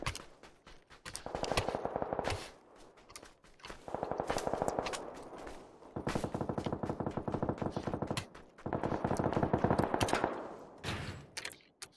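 Bursts of MG3 machine gun fire in the PUBG video game, four sustained loud volleys of rapid automatic shots separated by short pauses, with no talking.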